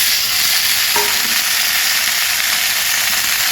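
Diced potato and papaya drop into hot oil with fried onion in a pan, giving a brief thud and crackle near the one-second mark, then a loud, steady sizzle that carries on without a break.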